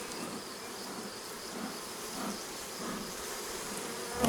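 Honeybees at an opened hive during a smoking check by a beekeeper, a steady dense buzzing that stays fairly loud throughout with slight swells, no voices.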